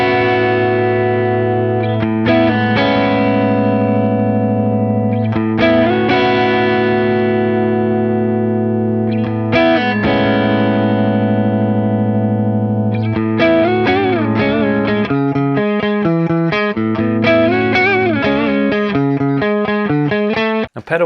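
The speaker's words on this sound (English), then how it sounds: "pedal-wise for this part, I'm using a flanger and a decent amount of reverb" Electric guitar played through a flanger pedal with reverb, sustained chords ringing out and then a faster picked passage, loud, close and alone, with a sweeping, swirling tone.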